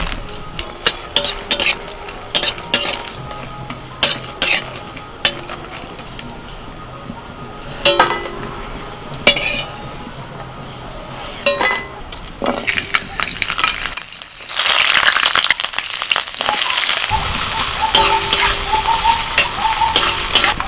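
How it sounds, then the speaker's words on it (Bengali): Dry red chillies fry in hot oil in a wok, opening with sharp clinks and taps of a utensil before a steady, bright sizzle takes over and runs to the end. "কড়াইতে তেল দিয়ে দিয়েছি, ভর্তার জন্য কিছু শুকনো লঙ্কা ভেজে নেব।"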